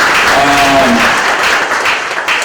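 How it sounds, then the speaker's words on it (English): Audience applause at a Smithsonian ceremony for the TV series Breaking Bad, loud sustained clapping from a large crowd filling the room, with a faint voice briefly audible under it. "Let's just have another round of applause."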